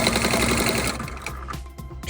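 A sewing machine stitches fabric scraps with a fast, steady mechanical chatter that runs loud and close, then slows and stops near the end.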